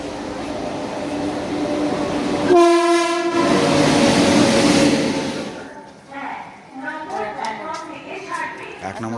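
Gour Express at a station platform sounds a loud horn with a steady harmonic tone for about a second, amid rumbling train noise and station bustle, followed by quieter clatter and murmuring voices.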